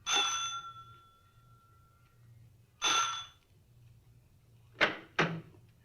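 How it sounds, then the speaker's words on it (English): An electronic front doorbell chimes twice with ringing tones, followed by two short knock-like thuds, all against a quiet low hum, late at night. "I rang the front doorbell."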